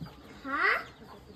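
A single hen gives one clear cluck close by as the chickens are let out, with quiet background sounds around it.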